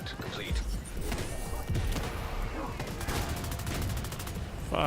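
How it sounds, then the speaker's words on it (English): Explosion amid sustained gunfire in The Division 2 combat, a dense rattle of shots and blasts running continuously at close range throughout, with a player's voice briefly audible over the noise. "that was a nasty explosion right there"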